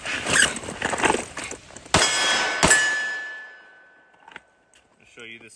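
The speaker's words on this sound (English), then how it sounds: "Glock 19, about 15 yards to steel here" Two sharp, loud reports from a Glock 19 pistol fired at a steel target about 15 yards away, each followed by a ringing metallic clang off the steel and a short decaying tail, over steady background noise.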